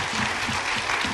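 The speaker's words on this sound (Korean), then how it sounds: "우리 주님께 한번 영광의 박수로 한번 시작해 볼까요" Congregational applause breaks out at a Friday night worship service in a Korean church, offered as praise before a hymn. The clapping is brief, dense and continuous, with a low hum of music beneath it.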